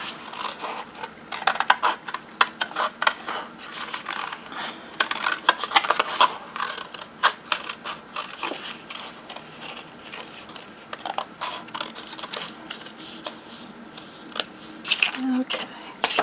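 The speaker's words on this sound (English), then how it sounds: "These bigger scissors, though, it'll make it easier to cut." Large scissors cutting material, a series of sharp irregular snips and crunching clicks, close and moderately loud, with occasional quiet talk.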